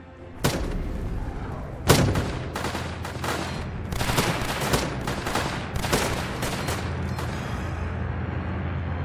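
Bazooka units in a tower defense game fire at incoming enemy aircraft, a dense run of sharp blasts and booming shots, with two heavy hits standing out early, over a continuous rumbling battle din.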